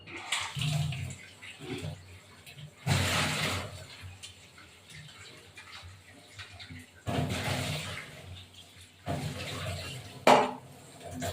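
Pieces of rohu fish being washed in water in a bowl, with repeated bursts of splashing and sloshing, light clinks of the vessel, and quieter pauses between the washes.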